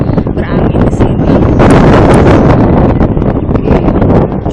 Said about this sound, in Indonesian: Cukup berangin di sini.